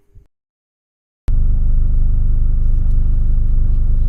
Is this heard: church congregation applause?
no